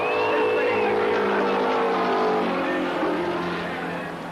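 Historic racing cars, Juan Manuel Fangio and Jack Brabham's machines, drive past at Sandown Park in 1978, a sustained engine drone with shifting pitch as they pass, under a commentator's continuous voice.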